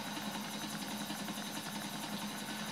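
A helicopter in the video game GTA gives a steady, droning engine and rotor whir, continuous and even in level with no voices.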